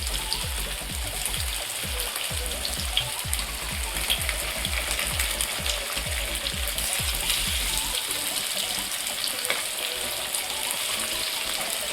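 Fish frying in hot oil in a home kitchen, a dense, steady crackling sizzle with faint rhythmic low pulses in the first part. It is loud and close, with no speech over it.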